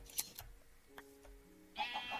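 Sheep bleat in a modded video game, an All the Mods 5 modpack. A short, nasal bleat comes near the end after a few soft clicks and faint ambient tones.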